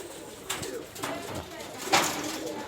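Local high flyer pigeons kept in a flock of about sixty or seventy coo nearby in several soft throaty bursts, with a wing flutter or rustle between calls.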